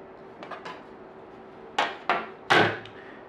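Laptop bottom case being pried off after its screws are removed, a few faint plastic ticks followed by three sharp, close snapping clicks as the clips release.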